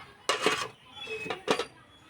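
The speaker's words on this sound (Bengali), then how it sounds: "এবার ঢাকাটা খুলে দেবো" A metal lid lifted off a cooking pot of bitter gourd left resting to release its water: a few close, bright clanks and scrapes in short bursts, with quiet gaps between.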